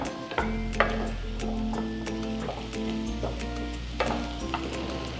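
Prawns sizzle in a hot pan with a little turmeric while a utensil stirs them, a steady frying crackle broken by sharp scraping clicks of the spoon against the metal.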